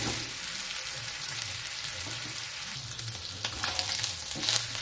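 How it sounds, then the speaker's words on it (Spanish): Chicken breast pieces sauté in a pan with a steady close sizzle, a bright frying hiss that swells slightly toward the end with light stirring movement and no voices. "Tratar de voltear para que se vaya sofriendo correctamente por todos lados."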